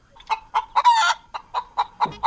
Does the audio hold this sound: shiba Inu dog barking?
no